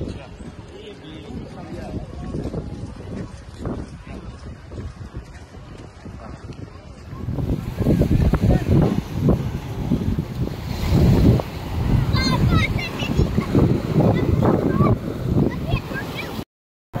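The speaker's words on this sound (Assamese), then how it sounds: "কিন্তু বতাহ দি আছে, কিন্তু একদম আছে।" Strong wind blows at Kite Beach in Dubai, buffeting the microphone with a heavy, low roar. It gusts louder partway through while people talk underneath.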